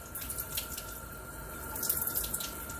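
Fresh basil leaves rinsed under a running kitchen tap, a steady close splash and trickle of water with small droplet patter, no talking.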